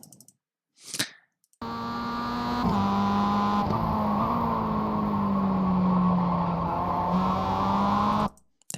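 Mazda MX5 race car at Ledenon circuit, engine note steady and loud through a corner after a downshift into first, with a brief burst before the sustained drone and no talk.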